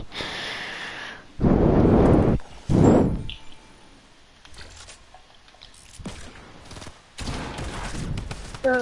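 Video game gunfire arrives as several loud, close bursts separated by quieter gaps, with sharp rattling volleys standing out against softer background noise.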